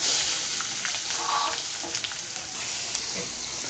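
Onions, curry leaves and green chillies sautéing in a pan for a Tamil sundakkai kootu, a steady close hiss of frying with faint stirring scrapes throughout, no voices.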